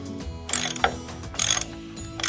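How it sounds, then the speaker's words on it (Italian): A toy screwdriver twisting screws into parts of a toy boat gives quick bursts of clicky, ratcheting mechanical whirring, starting and stopping several times close to the listener, with toy-like tonal hum in between. "E continuiamo ad avvitare."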